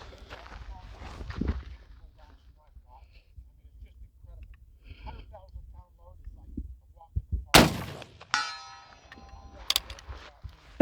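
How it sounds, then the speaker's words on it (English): Civil War Confederate carbines fire at a target 150 yards away outdoors, with a sharp loud report late in the clip and a ringing metallic clang from the struck target, amid quiet pauses and some faint movement. "we'll shoot it a few times and see"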